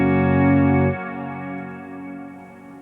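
A sustained electric guitar chord swells and then rings on under heavy reverb, the wash of sound slowly fading with a long, spacious tail.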